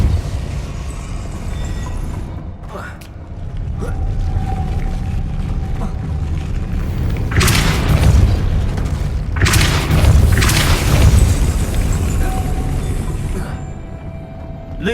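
The Depulso spell is cast in Hogwarts Legacy, a deep booming force blast with whooshing bursts over a loud rumbling game soundscape.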